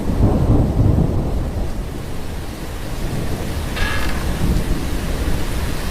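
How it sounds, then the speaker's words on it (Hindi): Heavy rain pouring down in a loud, unbroken roar with deep rolling thunder rumbling through, a stormy night at a school, no voices. "उसने देखा कि बाहर बहुत तेज बारिश हो रही थी।"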